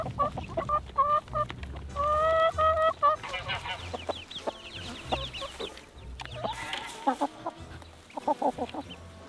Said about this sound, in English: let's go inside, see the big chicken.